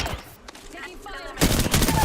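Gunfire in the video game Apex Legends crackles in quick bursts, quieter at first and then a loud rapid volley at the end, amid other game sounds.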